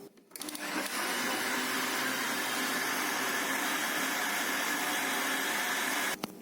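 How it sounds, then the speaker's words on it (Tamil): A mixer grinder blends a cooked ice cream mixture, a steady, loud motor whir starting abruptly and stopping near the end, with no talk. "இனி எடுத்து இந்த கிரைண்டருக்கு போட்டு அடிக்கணும்."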